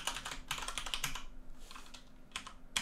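Rapid keystrokes clatter on a computer keyboard while code is entered for a Minecraft-style Unity 3D project, bursts of clicks with short pauses, close and clear, no talking.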